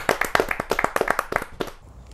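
Close, crisp handclaps from a small group at a Hindi poetry gathering (kavi sammelan), a quick irregular volley that thins out and stops within about two seconds.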